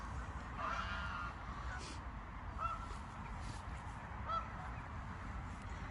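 Geese honk a few times in the distance over a steady outdoor rumble, faint calls spaced out across a calm background.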